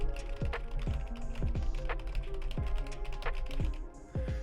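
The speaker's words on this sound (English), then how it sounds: "let's do some keyboard clicks too. Let's see, this is a non-mechanical keyboard too, by the way." Typing on a non-mechanical computer keyboard, captured close through a budget VeGue VM40 USB microphone: a run of irregular, crisp key clicks and taps, a few heavier presses, with no voices.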